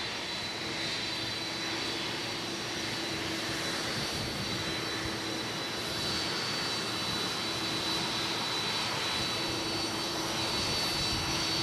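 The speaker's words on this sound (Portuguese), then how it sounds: "A aeronave que transporta Joe Biden, o presidente dos Estados Unidos da América." The jet carrying the US president, Joe Biden, taxis to park on arrival in Angola, giving a steady, loud engine roar with a thin high whine that holds unbroken throughout.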